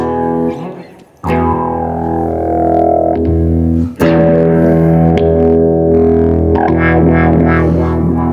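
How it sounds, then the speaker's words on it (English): A guitar run through an Electro-Harmonix mono synth pedal gives thick, buzzy, distorted notes with sudden attacks and a reverberant tail. "I really like this mono synth pedal from Electro Harmonics"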